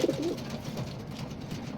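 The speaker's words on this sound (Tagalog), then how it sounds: "6-7, ibon ni Boss Mark Nukap, anak ni 11 Feathers" A racing pigeon, a rock dove, gives low soft coos close by, a short murmuring call over faint background noise.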